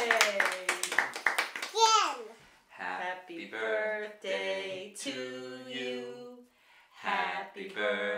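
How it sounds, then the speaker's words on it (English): Quick handclaps from children at a birthday party in a short burst at the start, followed by children's high voices babbling and singing. "Clap your hands."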